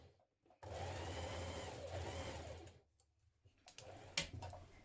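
A domestic sewing machine stitches trouser front pieces around a fake fly and crotch in a quiet room, running in one steady burst of rapid needle chatter, then stopping for soft clicks and handling noises.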